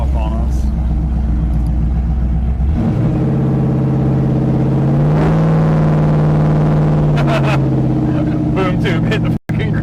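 A 1981 Pontiac Trans Am with a 408 LS swap idles with a loud, deep rumble, then revs up and holds a raised engine drone while driving around a back lot, with people talking over it.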